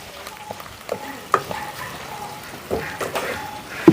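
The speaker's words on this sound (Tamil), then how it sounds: "முதல்ல நன்றாக வெங்காயத்தையும் கருவேப்பிலையும் வதக்கவும் வதக்கவும்" Onions and curry leaves with fennel sautéing in a pan, a low continuous sizzle with intermittent stirring scrapes and clinks, and a brief bark-like sound in the mix.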